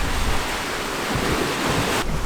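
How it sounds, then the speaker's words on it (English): Ocean waves surge around a boat on an Atlantic crossing, a continuous loud hiss of surf mixed with rushing wind buffeting the microphone, with no voices. "I like to hang out by the sound of the waves"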